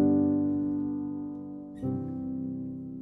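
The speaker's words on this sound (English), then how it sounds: "Perfect cadences sound like this." Chords of a perfect cadence played on a sustained, organ-like instrument, one held chord fading before it moves to a final resolving chord, clear and close with no talking.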